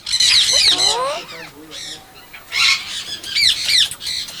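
Caged parrots, including ringneck and Alexandrine types, squawk loudly in harsh repeated bursts at close range, with a brief quieter gap midway before more shrill calls.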